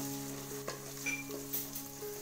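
Chopped onion and ginger-garlic paste frying in a pan for a meat and bottle gourd curry, a soft steady sizzle with faint scrapes of a stirring spoon, close up and quiet.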